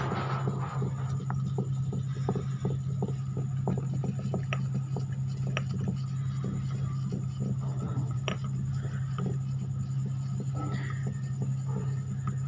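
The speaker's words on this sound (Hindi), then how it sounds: "अभी और इसको रगड़ते हैं और बारीक सफ़ूफ बनाते हैं इसका।" Mastic gum is rubbed and ground into a fine powder, close up. The repeated scraping strokes come in a fairly even rhythm over a steady low hum, with no voices.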